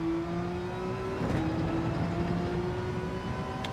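A Porsche race car in Gran Turismo 7 roars with a steady engine note that climbs in pitch as it accelerates, loud and continuous, with no other sound over it.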